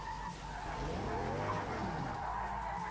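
A race car brakes hard in the video game Project Cars 3, tires skidding with a continuous squealing rush over the engine note for a few seconds.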